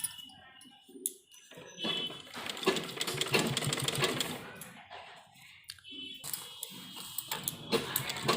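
Sewing machine stitching kurta back panels, a steady mechanical whir running from about two to five seconds and again near the end, with short pauses between bursts and someone talking over it.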